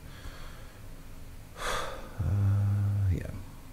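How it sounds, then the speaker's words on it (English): A deep breath is drawn in during a guided consciousness session: a soft rushing inhale rises mid-clip, followed by a low hum and a quiet exhale, all close and intimate. "let's take that deep breath in"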